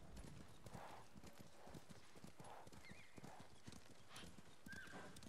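Rhythmic clip-clopping horse hooves in Ghost of Tsushima trot steadily, with a horse whinnying a few times over the top.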